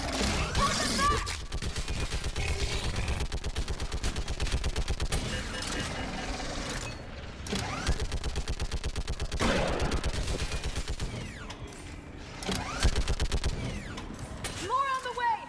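Sustained gunfire in a battle on a bridge in Mass Effect 3, loud rapid bursts and volleys rattling almost continuously, with brief lulls and shouting voices mixed in.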